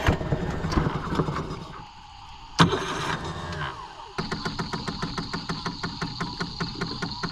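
An outboard boat motor cranks with a rough, uneven roar, cuts out briefly, then settles into a steady rhythmic chugging with regular pulses, fairly close and with no talk.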